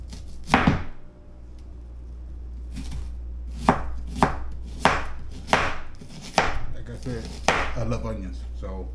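A knife chops onions on a cutting board for a pork butt stew, about eight sharp, close thuds spaced unevenly over several seconds above a steady low hum, with no speech.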